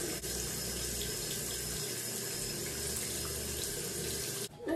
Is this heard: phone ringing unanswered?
no